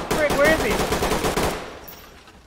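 Rapid automatic gunfire in a video game, a loud close burst of shots lasting over a second before fading into a trailing echo.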